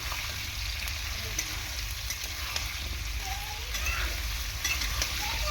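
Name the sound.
frying small shrimp for bottle gourd shrimp curry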